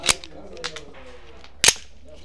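Two sharp pistol shots from a Berca Tunder handgun fired with TI ammunition at a gun shop event, each a loud crack with a short tail, spaced about one and a half seconds apart, with faint background noise between.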